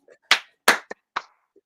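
A few sharp hand claps sound in a podcast studio: four distinct, dry claps spaced irregularly, close and fairly loud, with brief quiet between them.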